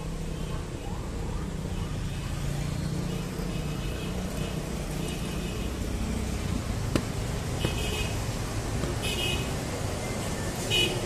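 Busy Jakarta street near the Bank Indonesia bus stop, heavy with trucks including a cement mixer: a continuous rumble of passing engines with a few short horn toots, and someone talking over it.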